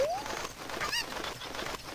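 A chicken in the video game Zelda: Ocarina of Time gives a short squawk near the middle, fairly faint over a steady background hum.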